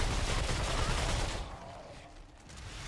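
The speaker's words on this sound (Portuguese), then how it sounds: "Tem uma sniper atirando aqui." Sniper rifle fire in the game Remnant 2, a dense burst of loud shots over the first second and a half, then trailing off into quieter rumbling.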